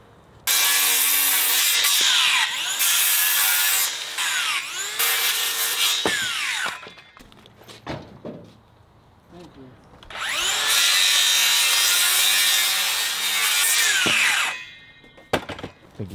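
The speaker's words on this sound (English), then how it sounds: "Drill this cement wall, throw some tapcons in it." A power drill whines loudly in two long bursts into a cement wall, separated by quieter scraping and handling noises.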